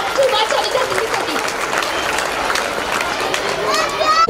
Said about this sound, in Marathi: एकदा जोरदार टाळ्या उजाव द्या माझ्या विद्यार्थिनीसाठी